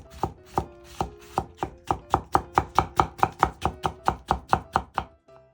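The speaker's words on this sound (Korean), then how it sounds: "오이는 썬 후 채 썰어주세요." A knife chops cucumber into thin strips on a cutting board for chilled soy-milk noodle soup: a steady run of about twenty crisp, evenly spaced strokes, close and clear, with no talking.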